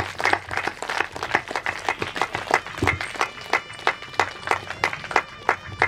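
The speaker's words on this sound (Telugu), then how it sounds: "ఒకసారి అందరు కూడా క్లాప్స్ కొట్టండి" A crowd applauding at a calendar release during a Gayatri yagya gathering, dense rapid clapping from many hands, fairly close and sustained, with faint voices underneath.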